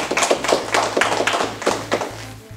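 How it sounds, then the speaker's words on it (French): Rhythmic clapping after a taekwondo belt exam, a steady run of evenly spaced claps from a small group over a low, constant hum. "On peut applaudir"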